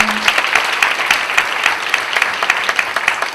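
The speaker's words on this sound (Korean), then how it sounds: "우리 그 하나님께 우리 영광과 감사의 박수 올려드리겠습니다." A church congregation gives a dense, steady round of applause during a Korean college-group worship service, the clapping loud and continuous throughout with no talk over it.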